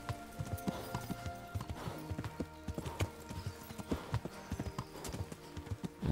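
Horse hooves clip-clopping in the video game Kingdom Come: Deliverance, a quick irregular run of close hoofbeats over a tired horse, with a faint background tone and no talk.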